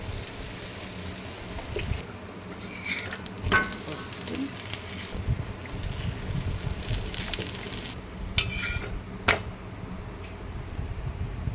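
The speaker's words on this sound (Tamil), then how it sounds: "தவா நல்லா காஞ்சிருச்சு போட்டுக்கலாம் சுற்றி எண்ணெய் வச்சுட்டு போட்டு" Egg parotta fries in oil spread around a hot tawa, a soft steady sizzle with a few sharper crackles and pops, heard alone without talk.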